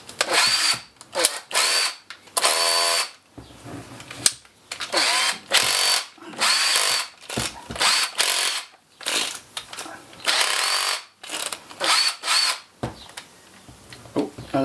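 An old electric drill, recently repaired after smoking, whirs loudly and close in repeated start-stop bursts of high-pitched motor whine separated by short pauses.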